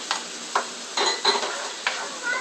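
Cooked quinoa sautéing in a pan gives a steady crackling sizzle, broken by several brisk stirring scrapes, close and fairly loud with no talk.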